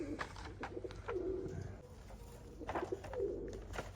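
Soft, low pigeon cooing repeats in short rolling phrases, fairly close, with faint background noise and a voice briefly in between.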